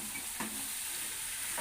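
Cut jackfruit frying with spices in an oiled pan, a steady close hiss of sizzling with a couple of faint stirring scrapes, no voices.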